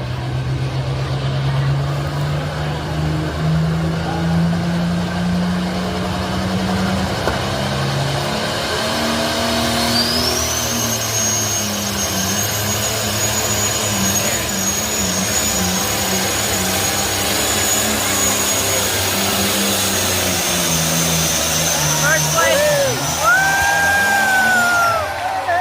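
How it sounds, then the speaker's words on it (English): A pulling tractor's engine revs up at a tractor pull in Lincoln, Nebraska, loud and close, its drone climbing as a high turbo whistle builds and holds, then sweeps upward near the end. "Gonna start bringing up the RPMs, getting that boost starting to build up."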